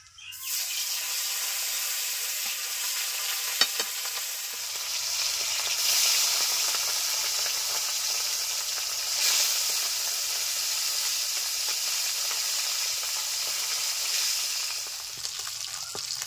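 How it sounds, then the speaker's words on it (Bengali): Pieces of katla fish fry in hot oil with a loud, hissing sizzle that starts abruptly and holds steady for many seconds, with occasional stirring knocks and spatters, close and uninterrupted by speech. "এখন কাতলা মাছগুলো ভেজে নেব"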